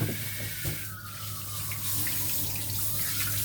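Tap water runs steadily into a kitchen sink while cut pork liver is rinsed for cooking, a soft continuous splashing with faint clinks of washing, fairly close and with no talking.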